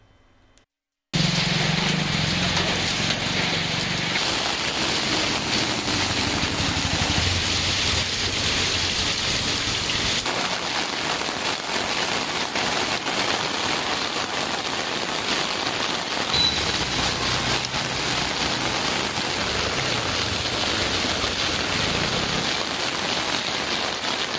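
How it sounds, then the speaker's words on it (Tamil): Heavy rain pours down in Thiruvarur, Tamil Nadu, a dense, loud and steady roar on surfaces that starts abruptly after a brief quiet moment and continues unbroken. "இன்று கனமழை பெய்தது"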